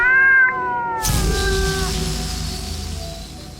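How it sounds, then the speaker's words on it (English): A small cat gives one clear, drawn-out meow up close, followed by a softer, fading tail of room noise. "she's a little cat, and she's got cat feet"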